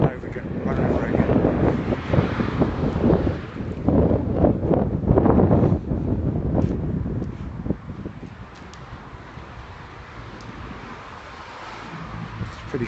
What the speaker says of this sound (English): Pretty cold and windy out here this evening